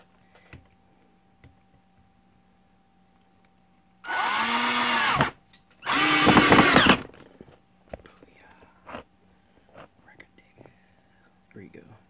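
Two bursts of a cordless power drill driving a screw into a Mini C1 project car during a build, each lasting about a second, close and loud, with a short pause between them and quiet shop noise around.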